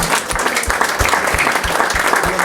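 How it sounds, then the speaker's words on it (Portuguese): A church congregation claps together in dense, lively applause with steady rhythmic beats running through it, loud and close throughout with no talking. "Uma salva de palmas pelo amor de Jesus."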